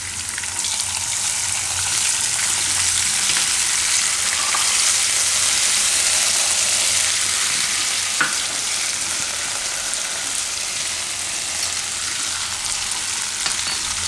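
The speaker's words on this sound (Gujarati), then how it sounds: "થોડીક વાર આદુની તેલમાં ફેરવી લેવાનું." Ginger fries and is stirred in hot oil, making a steady, loud hissing sizzle with a few faint scrapes, close by and continuous.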